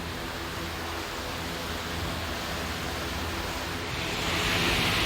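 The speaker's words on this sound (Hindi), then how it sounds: "अभी इसमें पानी डालना है तो छोटी लई लगा ली है पाइप।" Water being poured into the cooling system of a Mercedes CLS 350 through a small pipe: a steady, broad rushing splash, fairly close, that swells louder near the end, with no talking.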